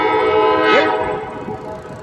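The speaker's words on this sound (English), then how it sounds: "If I'm not mistaken, it's going to be one of the Alco units coming through." A cargo train led by an Alco locomotive passes close by, its horn sounding over a steady rail rumble that fades slightly toward the end.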